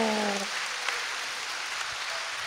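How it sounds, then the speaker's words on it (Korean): A church congregation claps together after a sermon, giving a steady wash of applause that carries evenly to the end, with a brief held voice tone at the very start. "박수로 하나님께 영광이요"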